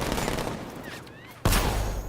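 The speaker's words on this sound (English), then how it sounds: "60mm cannon. Engaged." A 60mm cannon fires in Batman: Arkham Knight: steady rapid gunfire rattles, then drops briefly before a sharp, loud burst of shots resumes the barrage.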